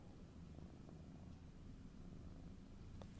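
A cat purrs close and quietly, a soft, steady low rumble with a gentle pulsing rhythm that runs without a break for about three seconds.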